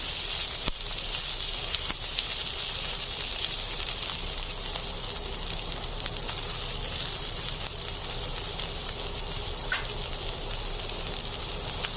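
Capsicum, onion and cabbage sizzle in a pan over high heat, a continuous, even hiss with faint crackles and no voices.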